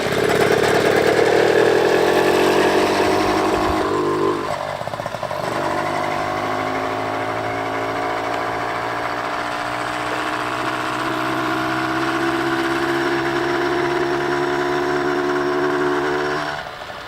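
A restored gas-powered bicycle engine runs after starting, a steady buzzing drone with a rising whine near the start that settles into an even idle before fading slightly at the end, close and loud with no talking.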